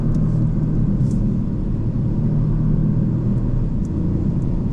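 Inside a Porsche Panamera 4 E-Hybrid accelerating into a curve, a steady, even low rumble of engine and road noise fills the cabin with no talk.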